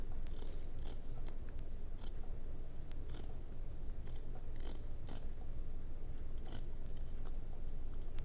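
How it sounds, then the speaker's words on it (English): Scissors snip through ribbon strands for a candle holder craft, giving a series of sharp, close cutting clicks at irregular intervals over a steady low background. "Could cut it with the scissors"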